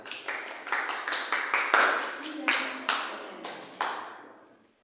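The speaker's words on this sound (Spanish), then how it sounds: "Muy bien, aplausos." A short burst of applause from a small group of students in a classroom, individual claps distinct and ringing in the room, trailing off after a few seconds.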